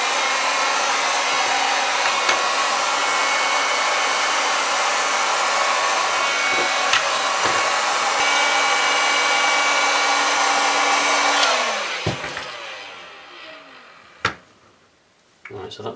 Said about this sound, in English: So I'm just going to use the old hot air gun, and I deliberately made those thinner sections in there so we can heat it and we can contour it.